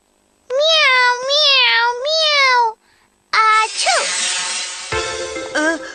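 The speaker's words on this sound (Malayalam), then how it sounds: "പൂച്ചക്കുട്ടിയുടെ വോയിസ് കേൾക്കാൻ വേണ്ടിയാ." Several drawn-out, high-pitched kitten meows in close succession, loud and near, then a longer wavering mewing with a rougher, noisier texture toward the end.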